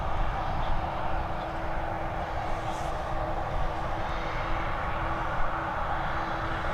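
A steady, continuous jet-engine rumble of an airliner taxiing at Dublin Airport, broad and even throughout with a faint tonal hum, heard from a moderate distance with no voices.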